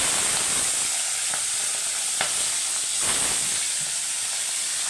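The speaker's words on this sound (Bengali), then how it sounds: "তেলটা আমার তেতে গেছে, মাছগুলো এক এক করে তুলে দেবো," Bhola fish frying in hot oil in a kadai, a steady close sizzle and hiss with a few sharp pops and crackles, no talking.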